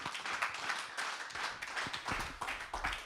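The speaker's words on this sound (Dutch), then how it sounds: "Geef hem alvast een warm applaus." Warm applause from an audience greeting a presenter at a Dutch award event, a steady patter of many hands clapping at moderate loudness with little talk.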